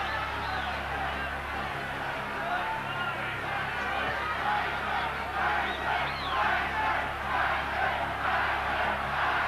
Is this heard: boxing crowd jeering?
yes